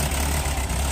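Steady low idle of a 1948 or 1949 Ford 8N antique farm tractor fitted with a Freeman front loader, running close by with a continuous heavy rumble and no talk over it.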